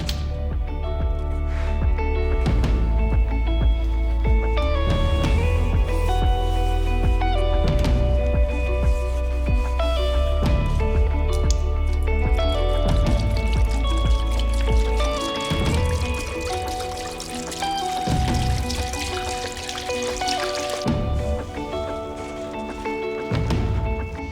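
Cleaning solution is swapped for Evapo-Rust in an ultrasonic cleaner, with close sloshing, pouring and liquid squelches mixed with clunks of containers and metal sockets, continuous and fairly loud without speech.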